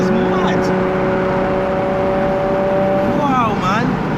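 Straight-piped Nissan Skyline R33 tuned to 650 brake horsepower at high boost, its engine droning steadily up close, then climbing into sharp revs near the end.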